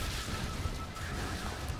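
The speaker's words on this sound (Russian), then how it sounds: "как они взрываются, неприятно" Demons blow up in the 2013 Shadow Warrior game amid a dense, faint wash of blasts and combat noise, with no clear separate bursts and no talking.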